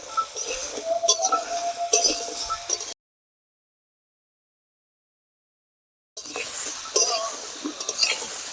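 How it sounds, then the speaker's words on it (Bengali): Slices of pointed gourd (potol) frying in a pan, with a soft sizzle, a utensil stirring and occasional clinks against the cookware, then a stretch of complete silence before the sizzling and stirring resume. "পটলগুলো ভেজে নিচ্ছি।"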